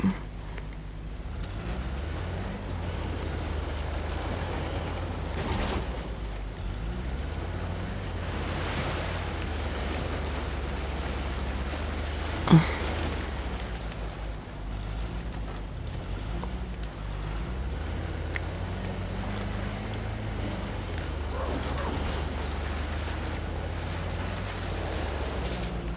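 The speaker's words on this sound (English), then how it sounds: "There's the waterfall." Steady roaring water from a waterfall in the jungle game Uncharted: The Lost Legacy, a broad continuous rush with a low rumble, loud and unbroken throughout with one brief sharp tick midway.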